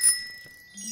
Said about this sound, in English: Ring the bell again, Beth.